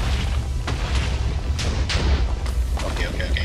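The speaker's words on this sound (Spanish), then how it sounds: "al menos la explosión sigue" In a Minecraft game (LifeCraft 2), explosions go off as a series of heavy booms and sharp crackling bursts over a low rumble, several blasts in quick succession, fairly close and loud.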